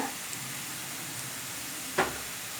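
Pepper powder, chili powder and garam masala cook in a pan for chicken, giving a faint, steady sizzle, broken by one brief scrape or clink near the end.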